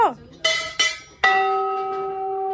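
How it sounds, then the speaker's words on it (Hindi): Hand bells rung at the Golu Devta temple in Almora, Uttarakhand: three bright metallic strikes in quick succession, the last ringing out with a long, slowly fading sustain. "घंटी बजाने पे लगे हुए हैं, घंटी बजाने पे लगे हुए हैं"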